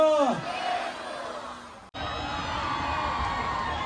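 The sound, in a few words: crowd cheering and applauding at a Bhim festival event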